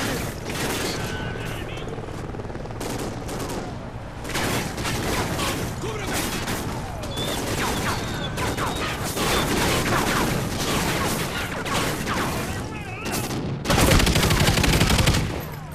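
Rapid gunfire and automatic bursts crackle through a Call of Duty Ghosts battle on the Las Vegas level, dense and close with helicopter-like rumble underneath. Voices talk over the shooting, and a heavy blast of fire comes near the end.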